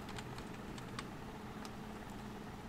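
Quick keystrokes tap on a computer keyboard in a quiet room, a fast light clatter of several presses close to the microphone with a low steady hum beneath.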